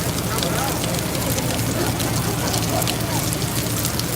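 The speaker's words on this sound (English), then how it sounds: "the rain's getting worse" Rain falls steadily during a mill fire, a dense continuous hiss over low rumble with faint voices underneath.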